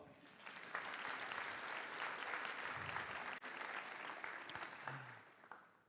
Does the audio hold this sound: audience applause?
yes